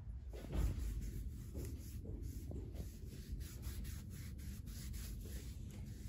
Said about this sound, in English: I'm going to start by cleansing the full arm with rubbing alcohol.